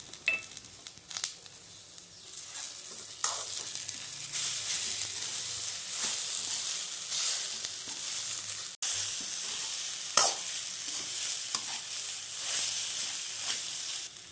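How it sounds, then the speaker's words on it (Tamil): Steady, close sizzling of egg poriyal frying in a pan, with scraping and clinking as it is stirred throughout. "முட்டை பொரியலை நன்றாக கலக்கி விடுங்க."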